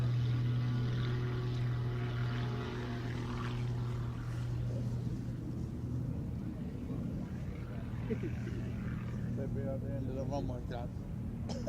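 An aerobatic muscle biplane makes a low-level knife-edge pass over the Duxford airfield at an air show, its engine droning steadily and loud throughout while a commentator talks over it.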